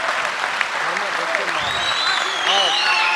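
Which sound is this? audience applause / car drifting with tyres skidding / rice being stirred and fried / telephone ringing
audience applause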